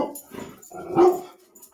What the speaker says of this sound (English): Sorry, my dog is barking because two birds got in a fight.